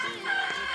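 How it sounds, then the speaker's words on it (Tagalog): Chickens on a farmhouse property cluck in a short, close, continuous burst with no talk. "Anong tawag sa manok na mataba?"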